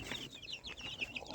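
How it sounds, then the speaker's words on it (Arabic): Grown chickens cluck in a rapid series of short, faint calls nearby, with no talk over them. "الفراخ الكبيره يا جماعه بتكاكي"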